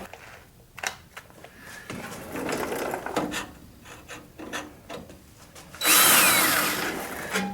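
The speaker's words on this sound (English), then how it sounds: "I'm going to grab a drill bit that is just a hair larger than" Power drill enlarging a pilot hole while a sway bar is fitted to a 1962 Chevy Biscayne. Several short bursts of drilling and handling sounds lead up to a loud, sustained whine near the end.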